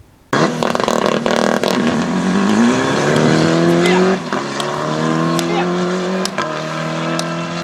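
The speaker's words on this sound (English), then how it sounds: "The event opens with motorbike racing." Motorbike engines scream and rev at high pitch on a racing track, climbing and shifting as they race past, loud and continuous with sharp gear changes.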